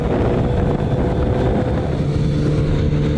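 A Yamaha Zuma 125 scooter engine held at full throttle on the road, a steady loud drone mixed with heavy wind rush, with no pauses or let-up, and no talking.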